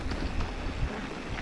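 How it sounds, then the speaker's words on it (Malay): Strong headwind buffets the microphone while mountain biking down a new trail at Oregon Paya Reje in Gayo, a steady low roaring rumble with gusty surges throughout. "Keras kali angin depan ini"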